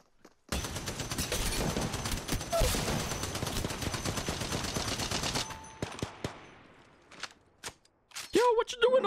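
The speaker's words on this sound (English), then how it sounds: "I'm getting shot by two teams." Rapid automatic gunfire in the mobile shooter Apex Legends Mobile rattles on for about five seconds, then breaks into scattered single shots, with a player's voice talking briefly near the end.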